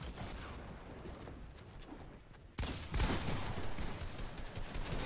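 Gunfire rattles out in a Fortnite match, a faint distant patter at first, then a louder burst of rapid shots and mechanical clatter that keeps going.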